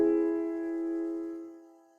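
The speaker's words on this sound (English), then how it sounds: "The augmented." An augmented chord is struck once on a sustained, harmonic-rich instrument and rings clearly for about two seconds before fading out, alone with no talking.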